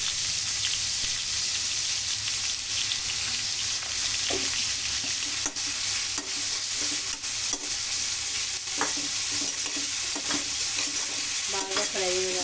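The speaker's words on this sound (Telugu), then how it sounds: "బాగా ఫ్రై అయ్యేలాగా ఫ్రై చేసుకుందాం" Chicken frying in a pan with salt and turmeric: a loud, steady sizzle with frequent clattering stirs and scrapes of a utensil throughout.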